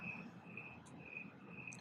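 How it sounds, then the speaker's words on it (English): A steady, faint high trill of crickets runs throughout, with a low background hum, partly air conditioning, beneath and a couple of brief higher chirps. "think you guys can hear the crickets."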